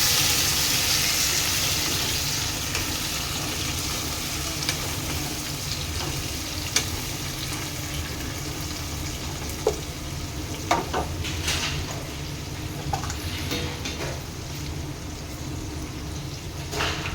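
Chopped tomatoes sizzle as they go into reddened frying onions in a pan, a steady broad fry with scattered stirring clicks and scrapes throughout.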